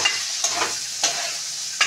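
Ingredients fried and stirred together in a pan, a steady close sizzle broken by three sharp scraping strokes of the spatula spaced about half a second apart.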